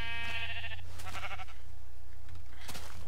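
Sheep in the video game Minecraft give two or three loud, close bleats in quick succession, with no talking over them.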